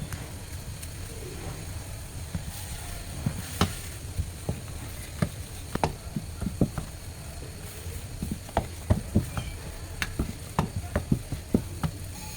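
Capsicum vegetable fry sizzles gently in a covered pan on low heat in a home kitchen, a steady soft crackle with occasional sharper pops and light clinks throughout.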